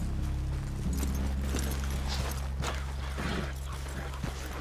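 Horses walk along a hill path toward a cabin in the Red Dead Redemption 2 video game, their hooves clip-clopping steadily under a continuous low rumble of game music and ambience.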